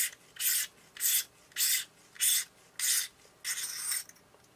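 A threaded lens cone is unscrewed from an Exaktar 50mm f/2.8 camera lens, giving six close, rhythmic rasping turns with short pauses between them.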